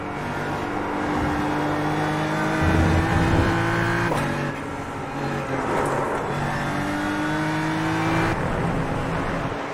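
Race car engines in the iRacing sim drone and rev steadily at high pitch, several cars overlapping with shifting tones as one engine fails, loud and continuous throughout.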